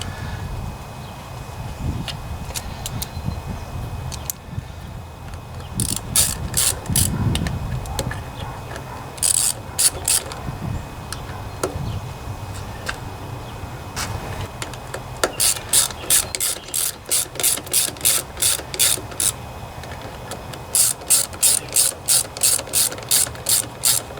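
Ratchet wrench tightening the bolts on a Toro mower's Briggs & Stratton 7.25 163cc engine during a head gasket replacement, with repeated quick bursts of clicking pawl strokes that come and go, close and clear, over low workshop noise.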